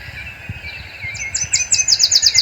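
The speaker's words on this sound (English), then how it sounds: "Yellow warbler has a very distinctive song, and it's one that you can typically learn fairly easily." A yellow warbler sings in shrubby habitat at Wentworth Farm: a bright, high series of quick repeated sweet notes that builds in loudness and speed toward the end, sounding close and clear over faint background.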